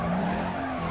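A car braking with squealing tires in Need for Speed: Carbon on PS2, a continuous loud skid lasting about a second over a steady engine drone.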